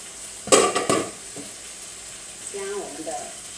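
Chicken curry ingredients are stir-fried in a pan before going into a curry-leaf broth: a couple of sharp, loud scrapes and tosses early on, then a quieter sizzle with faint clatter.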